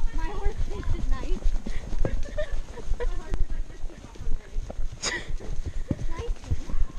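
Paso Fino horse hooves clip-clopping steadily along a trail, with several riders talking over the hoofbeats.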